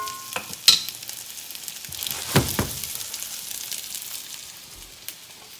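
Pierogis sauté in a hot pan with a steady sizzle, broken by a few sharp scrapes and clatters as they are stirred and turned, close up and with no talking.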